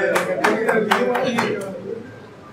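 An audience claps at a Hindi comedy poetry stage show (kavi sammelan), a dense burst of hand claps with sharp peaks that gradually thins and fades over a couple of seconds.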